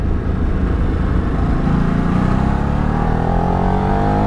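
Motorcycle engine revving under acceleration while riding, a steady loud drone with rising harmonics as the revs climb, close and continuous with no talk.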